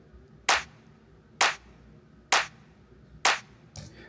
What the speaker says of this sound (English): It's called a black noise. And it's just a simple clap, one shot, that I like